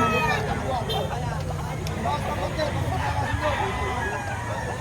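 Chickens at a poultry market in Lipa, Batangas, with clucks and a rooster crow heard amid background crowd chatter and nearby voices talking, a busy, noisy market scene.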